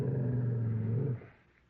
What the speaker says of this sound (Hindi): दूर से एक गुर्राने की आवाज सुनाई दी